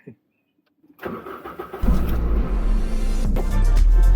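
A car engine cranks after a brief click and catches, rising into a loud, steady idle close by.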